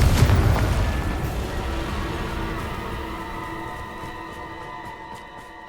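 A single loud magical blast from Bombarda and Confringo spells in Hogwarts Legacy, hitting at the start and then decaying into a long ringing, shimmering tail that fades over several seconds.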